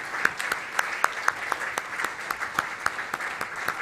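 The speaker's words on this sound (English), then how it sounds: "please let's have one more huge collective round of applause for all the champions" Audience applause at a sports awards ceremony, a steady wash of many hands clapping with sharp individual claps standing out, moderately loud and sustained throughout.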